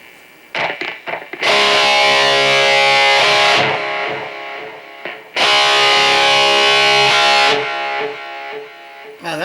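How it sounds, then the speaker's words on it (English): Distorted electric guitar lead tone in the style of a 1985 RATT sound, with sustained loud phrases and audible delay repeats trailing after each burst, two long notes separated by short picked stabs, no talking. "Now that's the delay that you hear"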